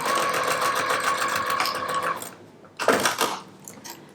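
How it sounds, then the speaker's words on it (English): A sewing machine runs in a steady whirring hum while stitching face mask filter fabric, then stops, followed by a short clatter of handling, close up and without speech. "I'm just going to sew right over it."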